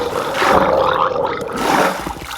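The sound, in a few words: gurgling of drowning character, video game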